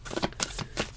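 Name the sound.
shuffling tarot cards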